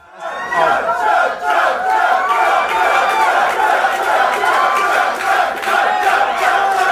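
A large crowd at a live Diggnation show roars and cheers without pause during a drinking contest, a dense, loud wall of voices lasting the whole stretch.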